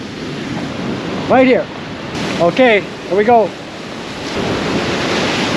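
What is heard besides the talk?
ocean waves at South Point, Big Island of Hawaii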